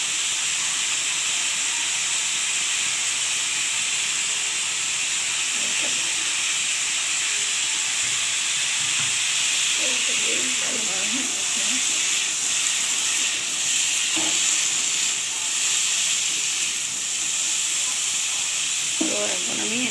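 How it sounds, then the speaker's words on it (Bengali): Potatoes fry in a pan with a little salt. A continuous, loud hiss runs throughout, with faint clattering and low murmurs underneath. "এবার আমি আলুটাকে ভালোভাবে ভেজে নিচ্ছি"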